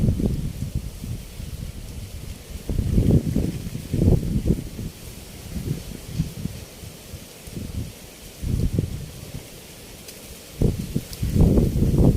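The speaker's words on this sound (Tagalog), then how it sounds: "Mahangin ang panahon." Gusty wind sweeps through garden foliage in uneven surges, a low rushing roar with rustling leaves that rises and falls across the clip, no voices.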